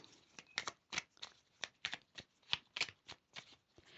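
Tarot cards being shuffled and drawn up close, a steady run of quick, crisp riffling bursts about every third of a second, quiet and alone with no voices.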